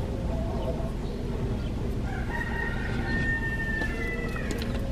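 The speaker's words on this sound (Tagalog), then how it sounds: "Daming mga manok dito guys" Chickens clucking and calling at a campground in Chefchaouen, Morocco, fairly close and continuous over a steady background hum, with a thin high tone drifting in partway through.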